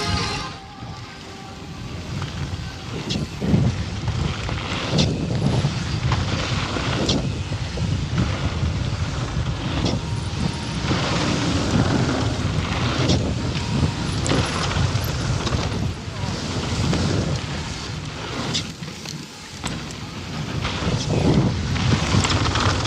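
Wind gusting outdoors at a bike park on a warm day, a broad continuous roar buffeting the microphone, rising and easing in waves with faint rustling underneath.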